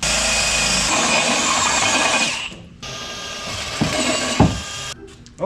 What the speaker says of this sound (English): drill that one down.